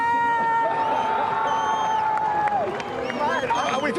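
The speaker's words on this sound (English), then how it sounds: "you can hear the crowd going nuts for Dimity" Crowd roaring and cheering for surfer Dimity after a barrel ride at a surf contest on the Gold Coast, a loud sustained mass of voices with whistles and shouts, under a commentator's voice.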